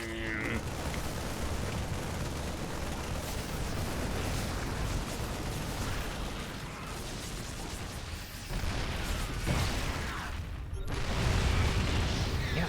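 Cannons pounding in a StarCraft 2 tournament match, a dense, continuous roar of booming in-game fire and battle noise that swells toward the end, with commentators talking over it.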